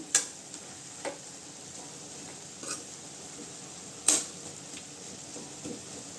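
Mixed leafy greens stir-fried in a pan give a quiet steady sizzle, broken by a few sharp scrapes and clinks of a spoon stirring at irregular intervals, with no voices.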